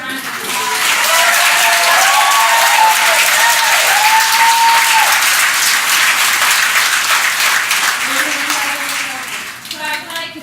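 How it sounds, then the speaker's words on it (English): A crowd at an evening foster care showcase applauds performers loudly, with thick sustained clapping mixed with cheers and voices, then tapering off near the end. "Go ahead and give everyone that performed tonight a big round of applause."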